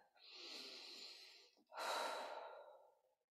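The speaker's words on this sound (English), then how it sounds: "Take a breath." A deep breath drawn in and let out, close and alone: a long soft inhale of about a second and a half, a brief pause, then a fuller, louder exhale trailing off over the next second and a half.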